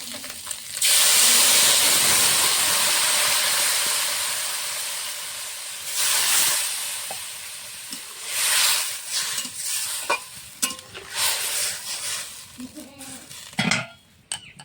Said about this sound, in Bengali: তরকারিটা ফুটে উঠেছে।